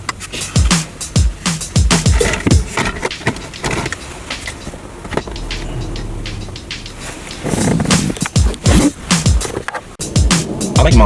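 DEERC 9200E RC car driving outdoors with a weird noise, its motor whirring and wheels rattling and scraping over the ground in uneven bursts, fairly close and loud.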